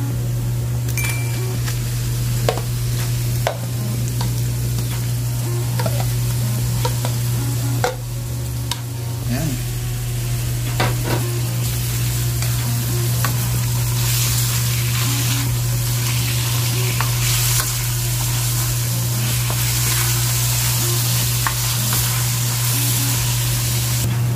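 Chicken seasoned with salt and crushed black pepper sautés in a pan for chicken Alfredo, a steady broadband sizzle with occasional clicks of stirring, continuous and close under a constant low hum.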